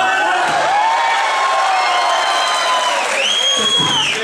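Corinthians fans packed into the Teatro do Corinthians cheer and whoop loudly, a dense, sustained roar of many voices with shrill rising yells swelling near the end, close and continuous.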